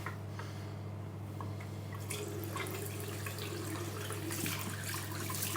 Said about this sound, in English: Wow, immediate hot water.